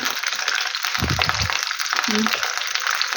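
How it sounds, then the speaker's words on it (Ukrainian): Peppers frying in oil in a covered pan over low heat, a steady broad sizzle running throughout, close and continuous, with a few brief scraping and clattering touches as the pieces are turned; no talk is heard. "Ну, і отак буду повертати і буду обсмажувати його."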